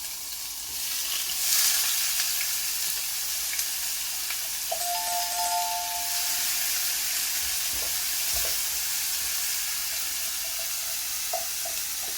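Soft, steady sizzling of onions frying in hot oil in a pan, fairly quiet, with a brief high tone and a few faint clinks partway through.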